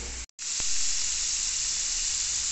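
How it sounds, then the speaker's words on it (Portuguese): Savoury Brazilian salgado snacks frying in hot oil, a loud steady broadband sizzle with a brief dropout near the start, then continuous bubbling hiss close by. "Fritando aos poucos, para que não venha ficar encharcado o nosso salgado"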